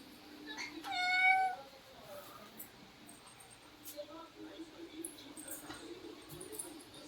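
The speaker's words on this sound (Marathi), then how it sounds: "आमचं मांजर आहे ना, मला लय घाबरतं" A pet cat gives a single short, clear meow close by indoors, with a television and fan running; low household background and faint voices continue afterward.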